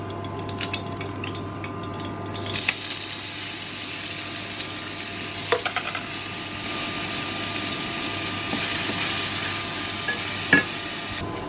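Onions sizzling in a pan on a stove, cooked with bay leaf, cinnamon, cardamom and spice pastes for beef; a steady, soft frying hiss runs throughout with occasional light clinks of stirring, no talk.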